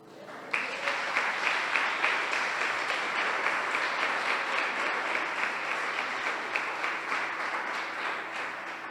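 Steady, sustained applause from a church congregation at an evening worship service, many hands clapping evenly and fairly loudly for about eight seconds, with almost no talk.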